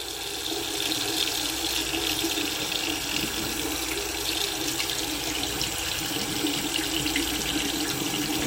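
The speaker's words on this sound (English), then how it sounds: "Water pressure's pretty good. Let's see when the water gets hot." A hotel bathroom sink tap runs steadily at good pressure, a close, constant hiss of water splashing into the basin that holds unbroken from start to finish, with no one speaking.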